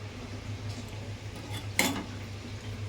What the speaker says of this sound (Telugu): ఇప్పుడు దీనికి మనం మూత అనేది పెట్టేసుకుందాం